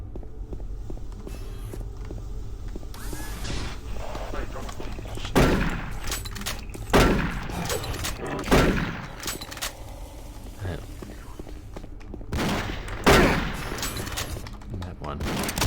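Shotgun blasts and gunfire in the video game Doom 3, several loud, widely spaced booming shots over a busy backdrop of footsteps and game noise, with someone talking intermittently.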